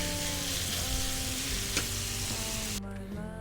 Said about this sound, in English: the beef that we marinated earlier, I also sauteed in this